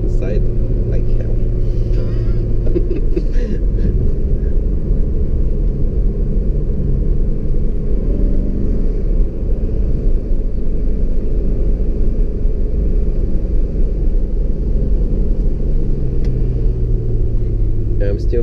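A BMW E39 540i V8 with a manual gearbox drones steadily from inside the cabin while driving, a loud continuous low engine rumble with slight shifts in pitch as the car pulls along.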